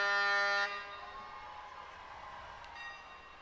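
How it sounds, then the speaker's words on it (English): A loud, blaring horn sounds for half a second during the 2022 Baylor homecoming parade, then cuts off. Faint ringing tones and outdoor ambience linger afterward. "Hit the horn, ring the bell."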